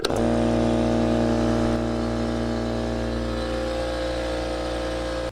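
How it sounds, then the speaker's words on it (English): Small air compressor in a woodshop running continuously as its tank fills, giving a loud, steady motor drone that starts with a sharp jolt and holds even throughout. "fill up just the small compressor"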